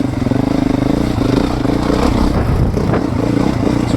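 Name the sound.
Beta 430RR motorcycle engine lugging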